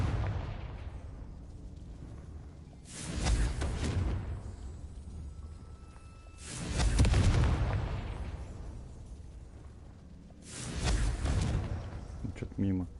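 Three heavy booming blasts from the Confringo spell in Hogwarts Legacy on PS4, spaced a few seconds apart, each swelling and rolling off over quieter game ambience.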